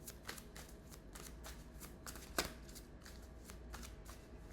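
Tarot cards being shuffled and drawn: a steady run of soft, papery riffles and flicks at an even pace over low background hiss, with one sharper snap near the middle and no talking.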